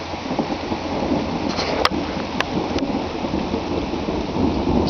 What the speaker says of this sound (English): Do you notice how the beginning of the thunder is softer than the middle of the thunder?